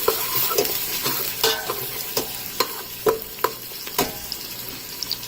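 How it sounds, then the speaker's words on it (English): Seafood boil ingredients are stirred in a sizzling frying pan, with a utensil scraping and knocking in a steady rhythm of sharp clicks over continuous frying hiss, close and clear with no talking. "So I'm going to mix this."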